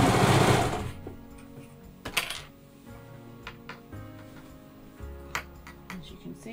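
Brother 1034d serger sewing fabric that is being stretched, a loud rushing whir at the start fading into lighter mechanical clicks and metallic pings, close by.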